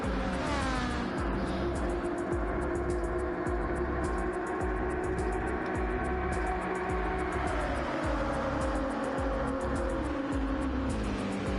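Gr.3 race cars at Daytona International Speedway in Gran Turismo 7: a steady, droning engine roar with shifting pitch that holds at an even level throughout, with no talk.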